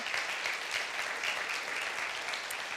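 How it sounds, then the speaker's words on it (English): Steady applause from a crowd, a dense even clatter of clapping hands throughout with no pauses. "we can applaud our elected officials together."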